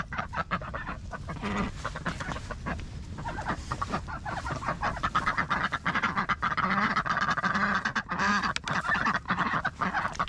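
Many ducks quack loudly and continuously, a dense overlapping chorus of honking calls close by, with no talking.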